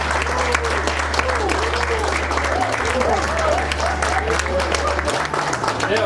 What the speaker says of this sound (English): Please give a very loud round of applause in welcoming them.